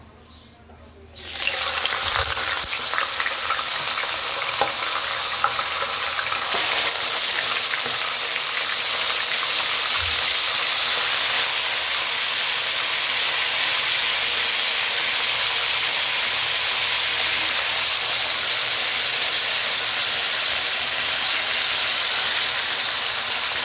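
A pork chop sizzles loudly in a hot pan, a steady dense hiss of frying that starts abruptly and continues unbroken.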